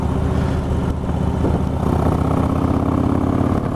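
Motorcycle engine fitted with a stage 1 upgrade, running steadily and close by, a dense continuous idle-to-revving drone with slight rises in pitch, heard alone.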